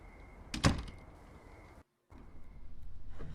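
A creaky mansion door swings open in the horror game Song of Horror, with one short, loud thunk-and-creak burst early on. After a brief dead silence, a low indoor ambience continues.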